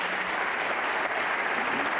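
Snooker crowd at the UK Championship final in Telford breaks into sustained applause for a good recovery shot, a steady dense clapping from a large audience that carries on evenly throughout with no talk over it.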